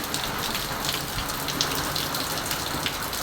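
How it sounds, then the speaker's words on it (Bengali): Steady rain falls on a house rooftop in Bangladesh, a dense, continuous hiss with scattered sharper drop taps throughout, fairly close and uniform, with no talking. "ছাদে রহমতের বৃষ্টি পড়ছে, দেখেন"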